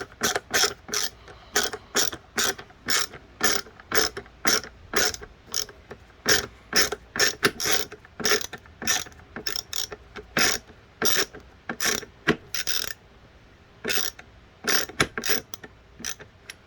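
A screw is driven into a Bissell PowerForce Bagless 6584 vacuum handle, giving quick repeated ratcheting clicks in short bursts and pauses, close and clear with no talking.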